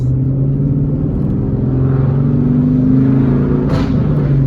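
Manual-transmission car engine accelerating as gas is given, a loud, close, steady droning rumble with a humming tone that rises slightly in pitch, alone without talk.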